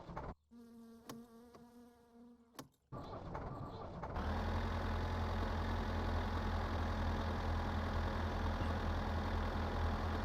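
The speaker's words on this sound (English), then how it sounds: "Let's get the engine started." A car engine in My Summer Car cranks and catches, then settles into a steady, loud low idle that runs on alone after a brief buzzy stretch.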